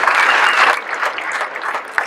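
A roadside crowd at the start of a Tour de France Femmes stage in La Gacilly applauds German rider Yann Lippert. The clapping is loud and dense at first, then thins out into scattered claps.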